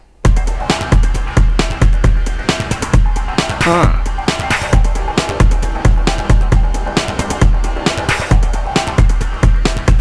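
A loud programmed drum beat from a Synthstrom Deluge with punchy kicks and a steady run of crisp hi-hats, repeating in a tight, even groove.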